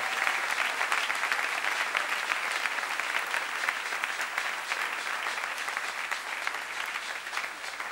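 A church congregation bursts into sustained, dense applause and cheering, steady clapping filling the room from start to finish with only faint voices mixed in.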